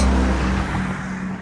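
Steady road traffic rumbles along a busy residential street, a continuous low engine drone with a car passing close by, fairly loud and without any talk.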